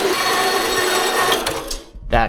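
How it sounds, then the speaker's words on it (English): Bandsaw cutting through lubricated fingerboard rail tubing, a loud, dense, continuous grinding whine that holds steady for about two seconds, then cuts off abruptly, followed by a short burst of speech. "Got it in the bandsaw on the mark, get her lubed up, and let's let it work its bandsaw magic."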